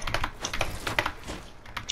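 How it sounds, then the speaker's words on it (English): Rapid, uneven clatter of fingers on a computer keyboard during an editing session, with sharp individual keystrokes in quick bursts, close and fairly quiet, no talking. "I'm gonna do it on my keyboard now, so I'm gonna edit on my keyboard"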